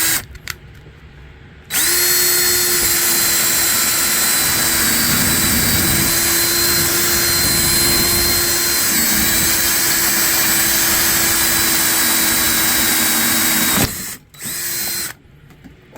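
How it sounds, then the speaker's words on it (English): Power drill turning a hole saw through a boat's galley to cut a mounting hole on a C&C 39 sailboat: a loud, steady whine running about twelve seconds after a brief start, then stopping and a short final burst. "we've got to drill a hole to mount it. And we got our trusty hole saw"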